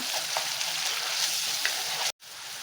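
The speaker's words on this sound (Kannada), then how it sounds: "ಈಗ ನಾನು ಈರುಳ್ಳಿ ಪೇಸ್ಟ್ ಹಾಕ್ಕೊಳ್ತಾ ಇದ್ದೀನಿ ಈರುಳ್ಳಿ ರುಬ್ಕೊಂಡಿದ್ದೆಲ್ಲ ಅದು ಹಾಕ್ಕೊಳ್ತಾ ಇದ್ದೀನಿ ಒಂದು ಎರಡು ನಿಮಿಷ ಫ್ರೈ ಮಾಡ್ಕೊಳ್ಳೋಣ" Onion paste fries in a pan with a dense, steady sizzle, close and even throughout, broken by a brief dropout near the end before the sizzling resumes.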